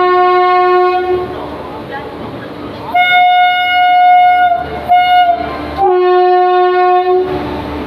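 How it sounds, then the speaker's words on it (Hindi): The Odisha Sampark Kranti Express pulls into a station platform, its loud horn blaring in long repeated blasts over rumbling railcars, with a person talking nearby. "तो गाइस आ चुकी है अपनी ट्रेन यहाँ पे"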